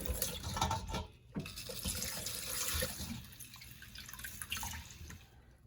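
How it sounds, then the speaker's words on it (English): Tap water runs and splashes over about eight scallops being gently rinsed in a sink, a steady close rush with brief dips, alone without talk. "So here I'm taking about 8 scallops. So I'm just going to gently rinse them as well."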